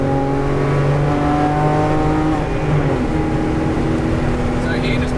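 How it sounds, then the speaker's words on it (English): A car engine revs and pulls hard at full throttle on a race track, its steady harmonic drone climbing in pitch, loud and close, with a voice talking over it. "Back on the throttle. Back on the throttle."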